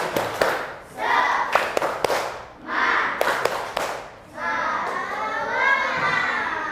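A group of children does the Indonesian 'tepuk semangat' clapping chant, rhythmic bursts of claps and sharp slaps mixed with shouted voices, followed by a rising crowd of children's cheering.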